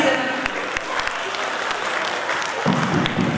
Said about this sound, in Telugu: మనకి కూర్చొని చప్పట్లు కొట్టండి